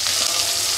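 Chopped tomatoes hitting hot oil in a home kitchen pan, giving a steady, close, loud sizzle throughout this brief moment.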